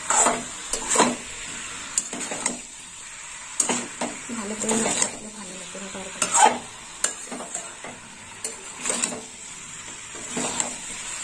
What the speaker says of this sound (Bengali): মাছটা দিয়ে এবার আরেকটু কষে নেবো।